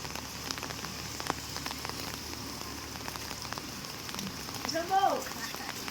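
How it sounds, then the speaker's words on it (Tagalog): Heavy rain pours onto surfaces in a Philippine province as a flooded street fills, a dense steady hiss and patter throughout, with a brief faint voice-like sound near the end. "Lakas ng ulan."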